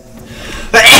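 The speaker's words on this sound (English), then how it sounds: "I sneezed." A single loud, sharp sneeze bursts out near the end after quiet game background sound, played over Portal 2 gameplay.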